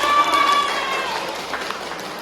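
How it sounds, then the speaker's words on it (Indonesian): Schoolchildren in a fifth-grade religious education class clap together, a short burst of quick hand claps that fades within two seconds. "Tepuk tangan."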